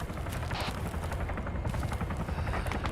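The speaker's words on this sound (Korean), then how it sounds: "아군 헬기." A Huey helicopter in a video game gives a steady low rotor thump throughout, mixed with distant gunfire-like crackle, moderately loud and continuous.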